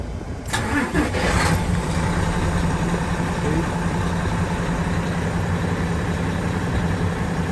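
The diesel engine of a large Isuzu Giga, Hino 700 series or UD truck cranks and fires, then settles into a steady rumbling idle, recorded close by.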